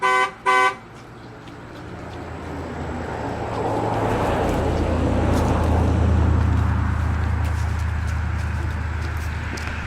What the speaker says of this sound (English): Okay, Connor, make it beep.